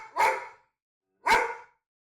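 A dog barks twice, with two loud, close woofs about a second apart and silence in between.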